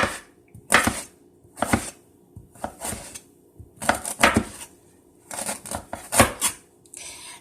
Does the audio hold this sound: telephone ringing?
no